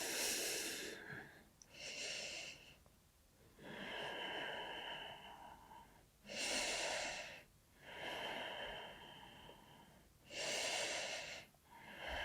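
During a yoga session, slow deep breaths alternate between long airy inhales and exhales, rising and falling in a steady rhythm, close and fairly loud.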